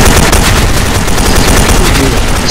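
Rapid, dense gunfire in a multiplayer shooter game, a loud continuous crackling barrage filling the whole moment without pause.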